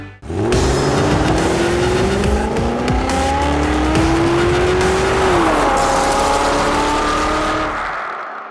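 Sports car with a 6.2-litre Chevrolet Corvette ZR1 V8, loud revving engine climbing through gears with tyre squeal, a shift midway, sustained close roar alone.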